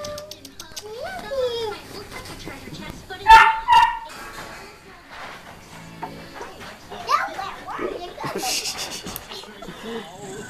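A puppy barks in short yips amid busy household noise, with children and adults chattering throughout and a couple of louder bursts near the middle.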